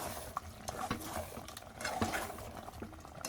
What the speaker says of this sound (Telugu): కొత్తిమీర వేసుకున్న తర్వాత ఒకసారి ఇలా కలిపేసి